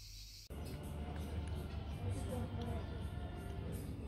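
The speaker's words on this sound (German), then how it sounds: "Hört ihr die Grillen oder besser gesagt die Zikaden?" Cicadas chirp in rapid, regular pulses by the sea, over a low murmur of background noise, beginning abruptly after a moment of near quiet.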